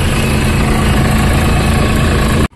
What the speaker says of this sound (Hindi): अपना ट्रैक्टर चल चुका है